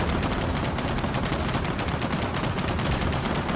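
Rapid, continuous automatic gunfire from the Gears of War 4 video game, a dense rattling barrage that stays loud and even throughout, with no talk.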